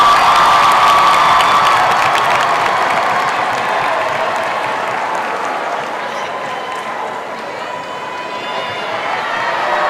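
A loud home crowd of Stockton Osprey fans cheers, shouts and applauds at a men's college basketball game against Rowan. The roar is strongest at first and then eases into a sustained, echoing arena din.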